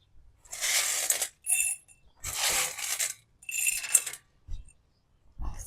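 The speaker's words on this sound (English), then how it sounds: "So we're going to put them in this jar." Dried rattlesnake beans pour into a glass jar in several rattling bursts, close and fairly loud, with short silent gaps between pours and no voices.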